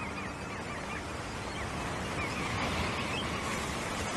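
Large mixed flocks of larger godwits and red knots calling together, a dense continuous chatter of many birds over steady surf-like background noise on a Patagonian shore.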